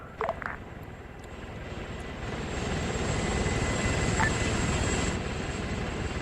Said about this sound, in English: We're hearing another helicopter coming in right now.